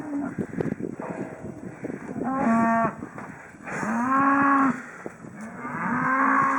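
Cattle on a small farm moo several times, long drawn-out lowing calls from more than one animal close by, separated by short quieter gaps with faint background noise.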